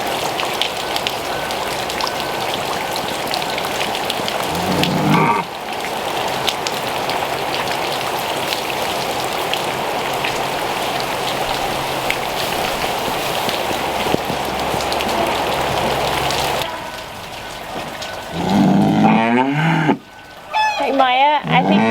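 Steady rain pours on the surfaces of a farm, a dense hiss running almost without a break, with brief knocks and shifts in the last few seconds.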